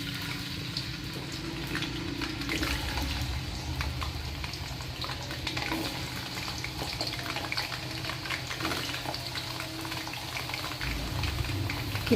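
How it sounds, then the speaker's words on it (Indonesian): Potatoes frying in hot oil give off a steady, busy sizzle and crackle that holds evenly from start to finish, close by with no one speaking. "Kita goreng dulu kentangnya hingga matang."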